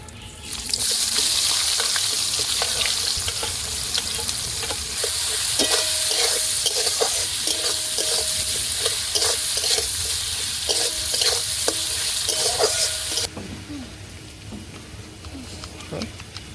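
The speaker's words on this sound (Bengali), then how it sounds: "ফোড়নে দিয়ে দেবো তেজপাতা, গোটা জিরে, দিয়ে দেবো কেটে রাখা পেঁয়াজ" Chopped onion with bay leaf and whole cumin seeds sizzles loudly in hot oil in a pan, a steady crackling hiss broken by repeated stirring scrapes, close and alone before easing to a softer fry near the end.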